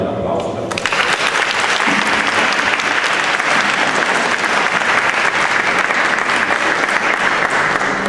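A concert audience of parents and families at a youth orchestra spring festival breaks into loud, sustained applause that swells after a brief voice at the start and stays dense and close to the end.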